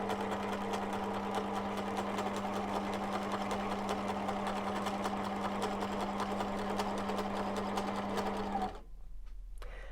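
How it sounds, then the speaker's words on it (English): A sewing machine runs in one continuous, steady burst as it stitches over elastic on a fabric face covering, then stops abruptly near the end, leaving quieter room sound. "I'm going to lower the presser foot, and I'm just going to go over that piece of elastic"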